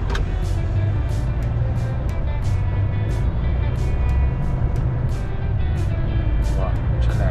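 A car drives along a road with a steady, close engine and tyre rumble throughout, and people talk over it at intervals.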